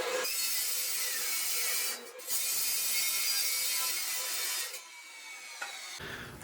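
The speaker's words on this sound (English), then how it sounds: "So I'm gonna go ahead and use my death saw right here" Power saw cutting DOM steel tubing for a Jeep Wrangler TJ roll cage, a loud continuous grinding whine close by, briefly dipping twice as the blade eases off before the cut finishes.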